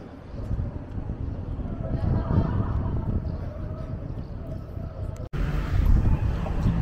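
Heavy wind buffeting a camera microphone outdoors on a quiet town street, a continuous low roar with gusty swells, briefly cutting out for an instant near the end before resuming.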